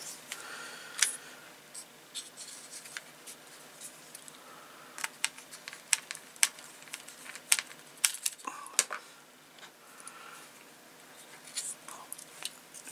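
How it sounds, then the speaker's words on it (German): Small screws being driven by hand into a plastic Hachette model of the aircraft carrier Graf Zeppelin, giving irregular close clicks and scratchy ticks spread through a quiet room with no talking. "Und dann schrauben wir hier mal eine Schraube rein."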